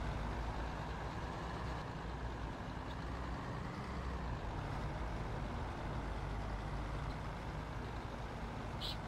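Tribus III bus, fully refurbished, rumbling steadily at a bus station, a continuous low engine drone with broadband noise and no pauses, fairly close throughout.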